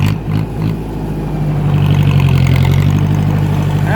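A 2010 John Deere tractor engine running close by with a loud, steady low rumble and a clear droning hum that swells slightly after the first second, then holds even and unbroken.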